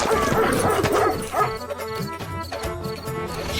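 A cartoon bulldog barks and yips in quick excited bursts, loud and close, mixed with whimpering sounds and brief voice fragments around the barking.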